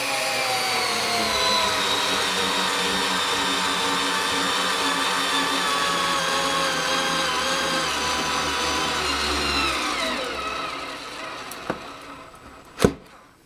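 A Makita 7.2 volt inline cordless driver set to high torque whirs steadily as it sinks a 2.5 inch wood screw into wood, a continuous loud motor drone that cuts off near the end, followed by a couple of sharp clicks.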